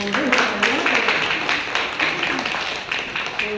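A conference audience breaks into applause, a dense, broad wash of clapping that holds steady throughout, with voices talking over it.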